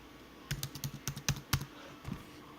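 Computer keyboard keys tapped in a quick burst of about a dozen light clicks, close and quiet, with a short pause before a final couple of presses.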